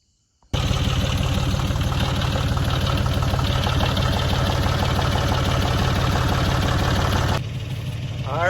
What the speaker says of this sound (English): I got the tractor in the back. I'm going to push this wagon forward.